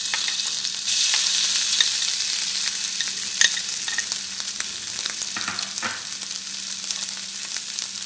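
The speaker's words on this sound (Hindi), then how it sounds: "पैन में हमने ऑयल ले लिया है, इसमें हम अपना चॉप्ड लहसुन शामिल करेंगे।" Chopped garlic frying in oil in a pan for chicken chow mein, a steady close sizzle with faint stirring clicks throughout, no talking.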